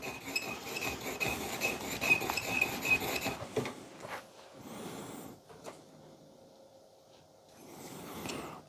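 A hammer and chisel graver is sharpened by hand, with quiet rhythmic rubbing and rasping strokes for a few seconds, then light clicks and faint scraping as the tool is checked and set down.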